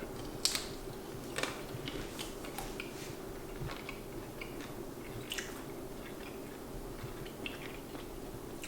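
Vegan bacon being chewed close up, with soft crunchy bites and moist mastication repeating irregularly over a faint steady hum, no talking.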